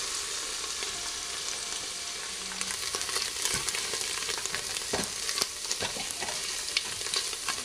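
Chopped spinach and garlic sauté in a hot pan with a steady, close sizzle and crackle, broken by occasional stirring scrapes and pops.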